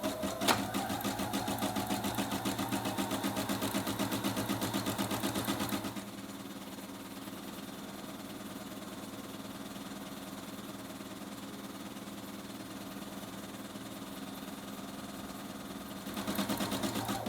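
Sewing machine stitching a no-zipper envelope pillow, a fast steady mechanical whir running for about six seconds, then a quieter idle hum, before stitching resumes near the end.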